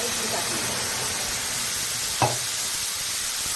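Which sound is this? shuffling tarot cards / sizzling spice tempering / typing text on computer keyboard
sizzling spice tempering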